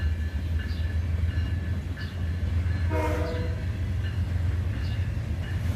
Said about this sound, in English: the lead locomotive is just passing on the other side right now